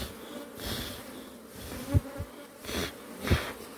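Dense honeybee colony humming steadily in a crowded hive during the spring season, a continuous close buzz with a few louder swells as bees move near, no talking.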